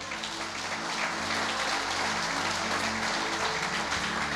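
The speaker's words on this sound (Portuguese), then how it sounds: "aplauda o Senhor." Congregation applause at a church service, continuous dense clapping with a low hum of voices and tones beneath, steady and fairly loud throughout.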